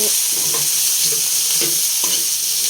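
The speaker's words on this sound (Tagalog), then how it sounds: "Yan, gisa-gisa lang hanggang maluto." Corned beef and potato sautéing in a pan, a loud, continuous sizzle with soft scraping and stirring knocks every half second or so, close up and without any talking.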